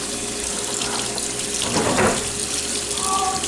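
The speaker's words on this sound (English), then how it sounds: "I'm going to drain and rinse these black beans." Canned black beans get rinsed under a running kitchen faucet, a steady close hiss of water pouring into a colander and sink, with a brief heavier splash midway.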